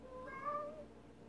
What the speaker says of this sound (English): She walked right up to that and started meowing at me.